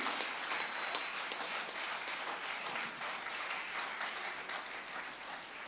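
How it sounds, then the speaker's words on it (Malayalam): Audience applause fills a stage event in a dense, steady wash of clapping that holds at an even level from start to finish, with no voices over it. "അവർക്ക് കൊടുക്കണം നിറഞ്ഞ കൈയടി"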